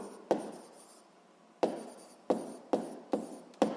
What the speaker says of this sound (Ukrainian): Запишемо.